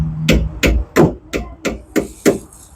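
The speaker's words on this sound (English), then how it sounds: "Now we're using this mallet here." A mallet strikes the rear brake drum of a 2011 Kia Sorento, seven loud, evenly spaced metallic blows close by with no voices between them.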